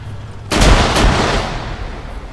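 A grenade blast in a World War II tank combat game: a sudden loud boom with a second burst just after, then a rumbling decay that stays heavy for over a second.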